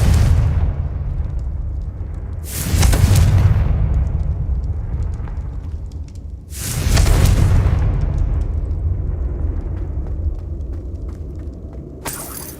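Two heavy booming blasts from the Confringo spell in a Harry Potter video game, each a loud burst that rumbles and fades over a few seconds, with a third blast starting at the end.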